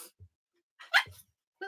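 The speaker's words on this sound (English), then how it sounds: "Quit barking." A dog gives a short, sharp bark, brief and close, preceded and followed by a couple of small muffled yips or grunts in an otherwise quiet room.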